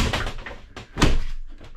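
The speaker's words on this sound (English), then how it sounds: "These beautiful glass doors. You want them all the way over and locked" Glass shower doors in a 2026 Jayco Eagle 26REC travel trailer sliding along their track, with a scraping glide and a solid thunk as a door closes and locks, heard up close.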